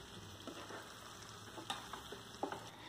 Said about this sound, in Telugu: ఇలా చికెన్ వేసుకున్న తర్వాత బాగా కలుపుకోవాలి